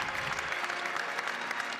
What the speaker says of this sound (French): Applaudi longuement pour sa première visite dans la grande synagogue de Rome